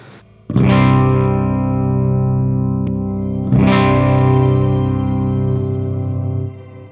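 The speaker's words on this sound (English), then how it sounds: "it's a reverb with a 2-octave boost" Two sustained electric guitar chords through a reverb pedal with a two-octave boost, each struck hard and left ringing with a wide, shimmering reverb wash and a bright upper octave, fading slowly.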